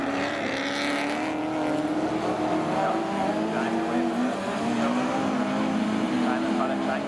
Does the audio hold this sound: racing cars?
yes